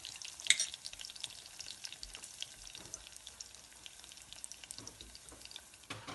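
Garlic, cumin, dried chillies, asafoetida and curry leaves sizzle in hot oil for amaranth-leaf dal, a steady soft crackle with scattered pops and a brighter burst near the start, fairly quiet and with no talk.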